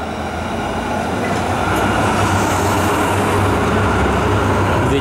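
A tram rolls through Basel with a loud, steady rumble and rail roar filling the whole stretch, close by and continuous with no pause.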